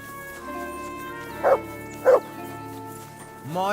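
A dog in the medieval role-playing game Kingdom Come Deliverance 2 gives two short woofs over a steady droning game soundscape, followed by a brief rising whine at the end.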